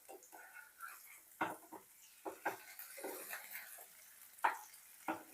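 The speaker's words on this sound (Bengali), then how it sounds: "এইভাবে সবগুলো পনির আমি ভেজে নিচ্ছি।" Paneer cubes fry in hot oil in a pan, the quiet sizzle broken by scattered clattering scrapes and knocks from turning the pieces, several sharper clinks standing out.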